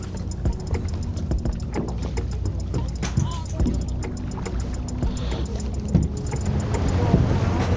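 A J24 racing yacht motors back toward port after racing was called off, giving a steady low engine drone with water and hull noise throughout and scattered clicks and knocks on board, getting slightly louder near the end.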